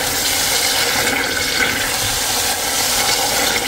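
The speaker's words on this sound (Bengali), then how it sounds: "মশলা ভাজা হয়ে গেছে, তেল ছেড়ে দিছে, ছিটতেছে, প্রচুর ছিটতেছে।" Chicken and spices frying in oil inside a Korean clay pot, with a steady close, dense sizzle and spatter that runs unbroken throughout.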